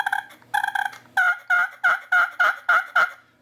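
A turkey call gives a few short yelps, then a rapid run of eight evenly spaced clucking yelps, close and clear with no talk.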